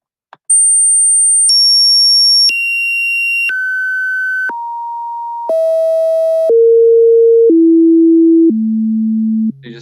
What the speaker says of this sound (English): You just heard these different peaks being played, being converted into beats per second.